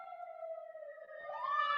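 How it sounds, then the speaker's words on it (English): A siren wails alone at moderate level, a steady tone whose pitch sweeps upward near the end, with no talk over it. "Oh wait, those are my sirens."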